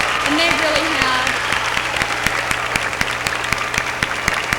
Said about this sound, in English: We need to give all of these ladies another round of applause